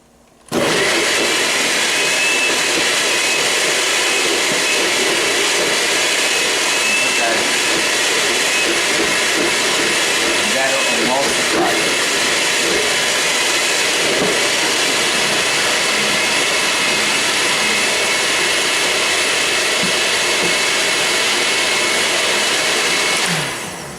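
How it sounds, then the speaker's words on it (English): A blender running on high purees cilantro salsa verde, making a loud, continuous whirring roar that holds steady for the whole stretch. "You cover it, and then you can start blending it. You want to make sure that your blender is set on high"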